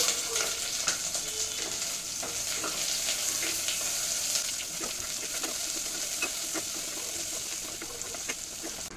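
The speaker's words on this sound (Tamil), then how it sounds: "அதுக்கப்புறம் நம்ம அரிஞ்சு வச்சுருக்க வெங்காயத்தையும் இதில் போட்டுடலாம்." Sliced onions with curry leaves sizzle steadily in hot oil in a pan for Kongunadu-style mutton kothu kari, with continuous frying hiss and intermittent scraping stirs, close and fairly loud.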